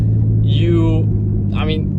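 Constant low hum of a car driving, heard from inside the cabin, with a person talking over it throughout.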